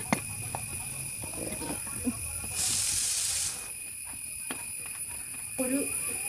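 Cashew nuts roasting over an open fire on a farm, a loud hissing burst of steam and spatter about a second long, rising over a low crackling background with faint occasional knocks.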